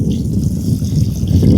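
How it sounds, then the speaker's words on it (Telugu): Water gushes briefly into a pot of cooking country chicken curry, a short, close pouring splash. "కొంచెం నీళ్ళు పోసుకుందాం."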